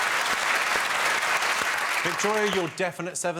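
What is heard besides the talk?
studio audience applause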